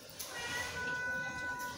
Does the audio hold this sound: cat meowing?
yes